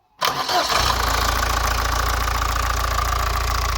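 A 1.8 diesel Indenor engine in a Ford Escort starts with a sharp catch, then settles into a steady, loud, close idle with a constant low drone and a faint mechanical clatter; no voices.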